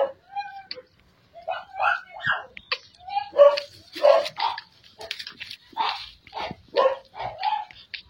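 Shih tzu and Beagle puppies give a run of high, thin whimpers and yelps in quick irregular bursts, close by and fairly soft, with short pauses between them.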